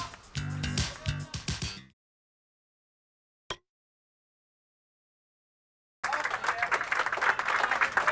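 Crowd applause at Park Place Lanes, a candlepin bowling alley during a 1992 tournament of champions, bursts in near the end after brief music and a silent gap, a lively clatter of many hands.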